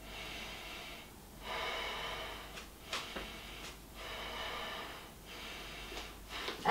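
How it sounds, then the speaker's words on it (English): Deep breathing during a warrior II yoga pose: slow, audible inhales and exhales through the nose, a few long breaths with brief sharper sniffs between, close and moderately loud against a quiet room. "Take a few deep breaths here."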